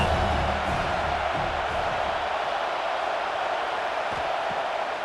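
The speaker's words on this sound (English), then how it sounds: "This crowd knows this defense needs them right now." A stadium crowd roars in College Football 26 during a UL Monroe versus Alabama game, a broad, steady wash of cheering that starts loudest and stays sustained, with faint scattered shouts.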